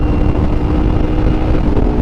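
A car engine cold-starts on a cold night, its steady idle rumbling loud and close for the whole stretch with no talking over it.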